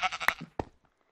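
Sheep bleating in a modded Minecraft game, a short wavering bleat followed by a second quick bleat, close and fairly loud, then silence.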